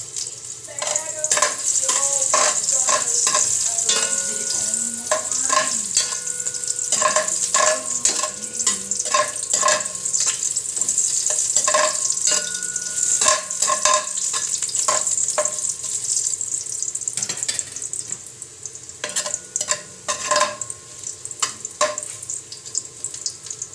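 Ginger sizzles in a hot pan for chicken tinola while a utensil scrapes and stirs it in frequent, irregular strokes, with a bright frying hiss running continuously beneath, close and fairly loud.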